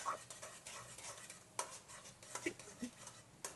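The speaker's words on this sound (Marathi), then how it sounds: "यामध्ये आता टाकून देते भात आणि मिक्स करून घेते" Cooked rice being stirred into an egg mixture in a pan for street-style egg fried rice, a quiet scraping and clinking of a spoon against the metal with irregular taps and soft shuffling.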